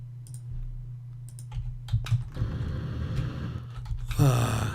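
Computer keyboard keys clicked in a few irregular bursts, close and moderately loud, the busiest stretch near the end over a steady low hum.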